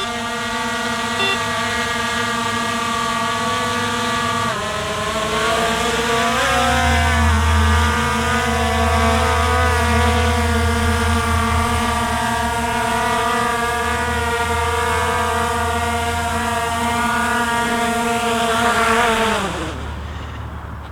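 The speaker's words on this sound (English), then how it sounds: "let's see if we can get it to land now" A Skydio 2 drone flying in to land, its motors producing a loud, steady, buzzing whine that bends in pitch as it maneuvers, then sweeps downward and cuts off near the end, close with some wind rumble and no talking.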